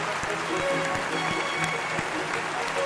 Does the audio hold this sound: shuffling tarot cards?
no